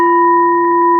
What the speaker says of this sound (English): And always start with a bell.